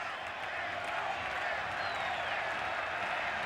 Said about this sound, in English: The crowd roaring in anticipation of the 16th strikeout.